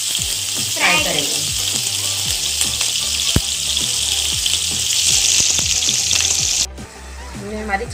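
Chicken pieces on sticks, garnished with capsicum and tomato, sizzle loudly and steadily in a hot pan, with occasional utensil knocks and a brief break near the end.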